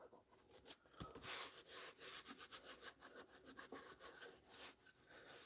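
Repeated rubbing strokes over a stamped sheet for mosaic work, a steady scratchy friction that pulses in quick, uneven back-and-forth rhythm, close and fairly loud with no talking.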